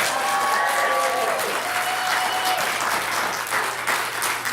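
A cinema crowd applauds loudly and steadily for a film, dense clapping filling the whole stretch, with a few faint whistles riding on top.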